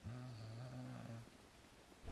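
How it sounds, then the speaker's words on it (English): A character snores inside a building in the medieval game Bellwright, one faint, drawn-out snore lasting about a second before it trails off into quiet. "You can hear him snore inside"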